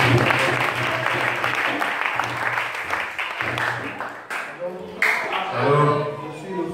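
Church congregation applauding for pastor Herman, continuous clapping mixed with crowd voices and music, fading slightly toward the end as a single voice begins speaking.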